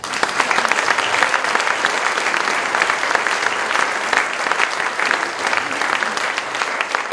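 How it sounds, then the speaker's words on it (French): Steady, dense applause from a crowd at a public political meeting in Oullins, France, continues loud and unbroken throughout, with no pauses or voices standing out. "Ils méritent tous vos applaudissements."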